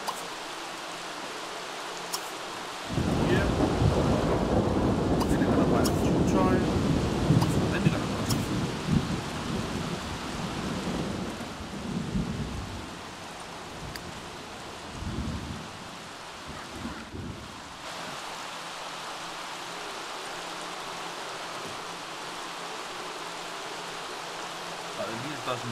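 In The Sims 3, a sudden rumbling thunderclap breaks over steady rain, then fades into continuous rainfall with a few softer distant rumbles.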